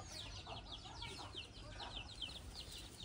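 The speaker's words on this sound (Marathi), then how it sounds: "आणि मेनली तर कोंबड्या पण आहेत इकडे." Hens and chicks in a Maharashtra village yard, with faint, rapid chirping peeps and soft clucks repeating against a low background hum, fairly distant and quiet.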